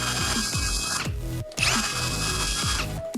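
UBERMANN 18V cordless impact wrench running close by in several bursts, a whirring motor with rapid hammering impacts and sharp stops between runs.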